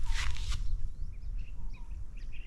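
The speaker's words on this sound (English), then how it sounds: "there's so much animal sounds around. There's so much activity, little birds hopping through the fields there." Soft, scattered little bird chirps sound at a distance over a low outdoor rumble in a regenerating field in Thailand, following a brief burst of noise at the start.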